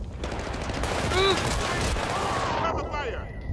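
Dense gunfire crackles through a Battlefield: Bad Company firefight, sustained bursts and single shots layered together at close range, with a brief whistling tone in the middle and a voice speaking over the din.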